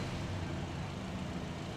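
A Subaru Crosstrek's naturally aspirated 2.5-liter boxer four-cylinder runs at a faint, steady idle, a soft low rumble heard from a short distance.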